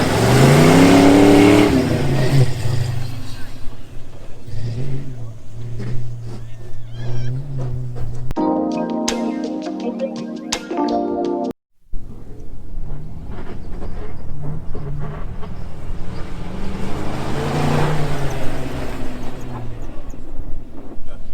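A Ford Mustang rally car races a run with sway bars off and interior stripped, its engine roaring and revving hard through shifts, loud and sustained with a brief drop in the middle.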